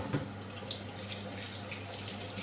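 Kitchen tap running steadily into a sink while beef is rinsed, a continuous faint splashing with small bursts of water hitting the meat, no voices.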